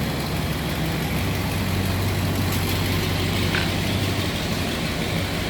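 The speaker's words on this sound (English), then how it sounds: "1968 Ford XL Fastback with a rumble out of that 390" A 1968 Ford XL Fastback's 390 V8 idles with a steady, low rumble, a near-stock tone that holds unchanged and close throughout, with no talking.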